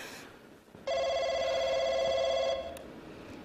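A telephone rings indoors with a single steady electronic ring lasting under two seconds, moderately loud against low room noise, then fades.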